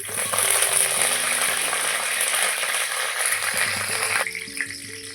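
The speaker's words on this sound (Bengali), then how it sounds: "কারি পাতাটা তো ভাজা হয়ে গেছে এবারে" Curry leaves frying in hot oil in a pan give a loud, steady sizzle with crackling spatter that drops off sharply near the end, with no voices.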